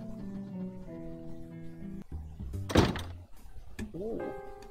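A door in the point-and-click game Edna bricht aus gives one short, solid thunk, surrounded by background music with a steady tonal drone.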